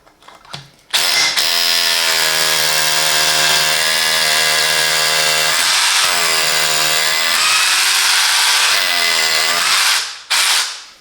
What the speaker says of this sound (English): with hammer drilling.